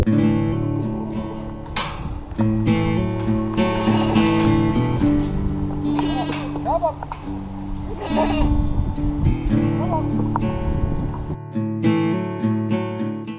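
Several goats bleat loudly and repeatedly in a paddock corner in New Zealand, their wavering cries overlapping one another close by with barely a pause, no voices in between.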